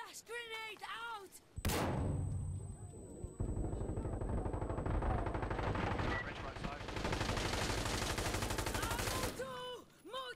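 In the Insurgency Sandstorm video game, a sharp flash grenade bang is followed by sustained rapid automatic gunfire and shots, loud and dense, with voices talking before and after.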